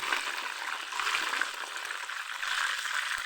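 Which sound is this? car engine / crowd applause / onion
onion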